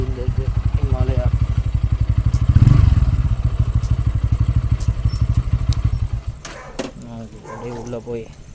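A Royal Enfield Himalayan motorcycle idles nearby with a steady, loud thumping single-cylinder pulse that swells briefly, then cuts out near the end while people talk over it.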